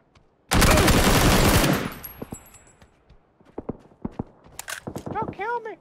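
Automatic cover fire in the battle-royale shooter PUBG Mobile, one loud dense burst lasting over a second, followed by scattered clicks and thumps and then game voices talking.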